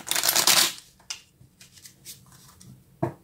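Tarot-style cards are shuffled up close in a quick riffling burst, followed by a few soft slides and taps as a single clarifying card is drawn.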